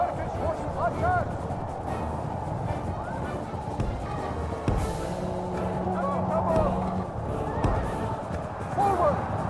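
Horses whinny and neigh amid a busy Total War: Medieval II battle with Turkish horse archers, high wavering calls rising over continuous clatter, low rumble and a commanding voice.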